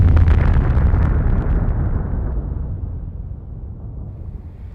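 An atomic bomb explosion: one huge, deep blast that rolls out as a long, low rumble and slowly fades across several seconds, loud and alone with no voices.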